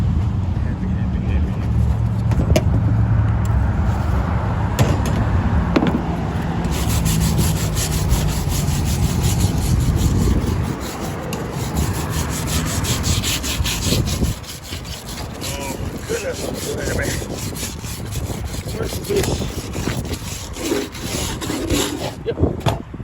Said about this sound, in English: So that's how you take the vinyl top off of 1986 Cougar LS 5-liter.